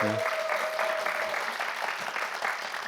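A studio audience on a Korean government talk program featuring the unification minister breaks into applause, a fairly faint, even patter of many hands clapping with a brief tone at the start.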